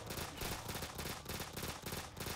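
Rapid, dense gunfire mowing down zombies in a Call of Duty Zombies match, loud and continuous with bursts blurring together and no talking.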